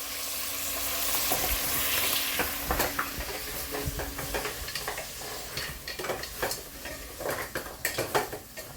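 Mutton pieces coated in chili powder, salt and turmeric are stirred in oil in a pan, with a soft close sizzle under repeated scraping and clinking of the spoon against the pan.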